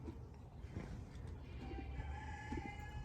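Farm animals at a survivor sanctuary call out nearby, with a rooster's crowing and hen clucks over low rumbling background noise, short bursts overlapping throughout.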